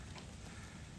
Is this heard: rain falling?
yes